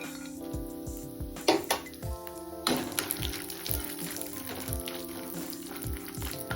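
Cashews and almonds frying in ghee in a kadai, with clinks and scrapes of a utensil against the pan over a faint sizzle, while tonal background music plays.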